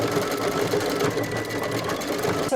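An embroidery machine stitching an oven mitt potholder runs with a fast, steady mechanical whir and rapid needle rhythm, close and continuous for the whole stretch, without talking.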